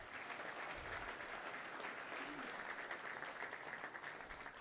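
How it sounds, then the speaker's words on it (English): A banquet-room audience at a Little Rock Touchdown Club gathering breaks into applause, a continuous wash of many hands clapping at a steady level throughout, with no voices standing out. "Let's give a round of applause for all those folks coming in."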